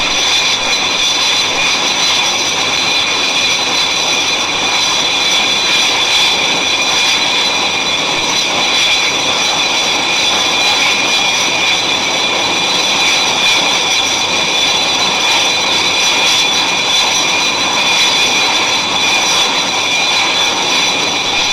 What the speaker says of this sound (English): the Buccaneers are dropping down for a low-level run-in